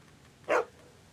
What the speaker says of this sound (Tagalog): Biglang may aso.